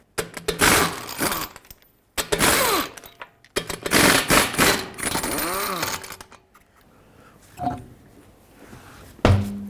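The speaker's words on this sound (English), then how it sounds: "With a 22mm socket, remove all 5 lug nuts and then pull the wheel off." Lug nuts on a 2010-2017 Chevrolet Equinox front wheel spun off with a power tool on a 22mm socket, loud close bursts of whirring rattle in several separate runs, ending with a clank, no talking.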